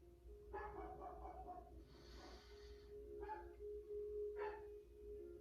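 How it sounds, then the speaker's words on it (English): Several muffled German Shepherd barks, some distance away, in short bursts separated by pauses, faint under steady background hum. "if you hear my German Shepherd barking"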